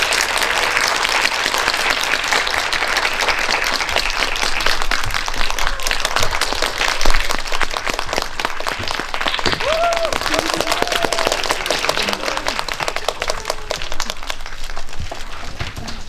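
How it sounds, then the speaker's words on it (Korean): A dense, steady wash of audience applause fills the whole stretch as a director and actors take the stage at a Korean film talk event for the movie King Maker. It stays loud and continuous, with a few brighter claps standing out. "큰 박수로 맞이해 주세요."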